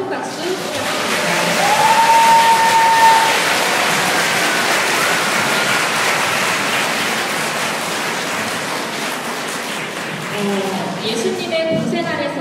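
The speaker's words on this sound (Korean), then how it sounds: "아멜 성가대에게 다시 한번 큰 박수 부탁드립니다" A church audience at a music festival in Daebang-dong claps for a choir. The applause is a long, steady, dense wash that slowly fades, with a brief tone near the start and a few voices at the end.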